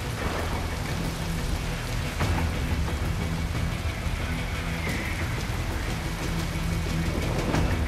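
Heavy thunderstorm rain in the Metal Gear Rising video game pours as a dense, loud, continuous hiss of drops on surfaces, with low rumbling underneath and no voices.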